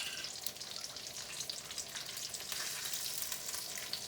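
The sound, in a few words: ginger added to sizzling chicken karahi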